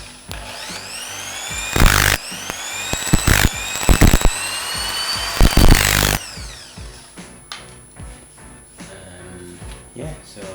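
A compact Bosch GSB 570 electric drill whirs in several short bursts, its pitch rising and falling with the trigger, followed by quieter clicks and handling noise.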